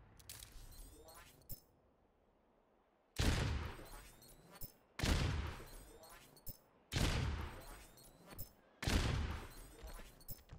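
Widowmaker's primary rifle fire in Overwatch, four loud bursts of rapid automatic shots, each lasting about a second and separated by short pauses, with a faint click and softer shots before the first burst.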